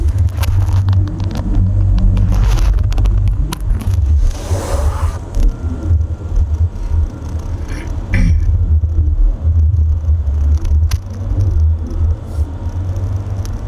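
Traffic in Ayala Tunnel, with a loud continuous low rumble of car engines and tires echoing in the enclosed space and occasional passing swells.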